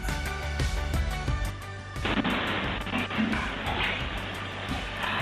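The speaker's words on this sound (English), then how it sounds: "New video captures the moment of that deadly explosion in Northwest Baltimore." A deadly explosion in Northwest Baltimore is caught as a string of sharp, loud impacts followed by a heavy, roaring blast that lingers with rumbling debris noise.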